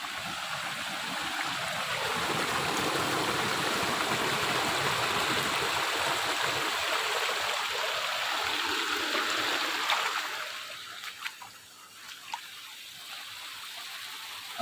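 Forest stream water rushes loudly and continuously nearby, then turns fainter and patchier toward the end.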